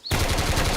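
An AK assault rifle firing full auto in the survival shooter Road to Vostok, a sudden loud close burst of rapid, evenly spaced shots filling the whole brief moment.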